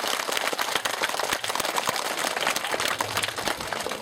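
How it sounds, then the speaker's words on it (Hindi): Students at a village school gathering clap for the villagers, a steady wash of many hands that stays fairly even and moderately loud throughout. "तालियों के द्वारा अभिनंदन करिए ग्रामीणों का"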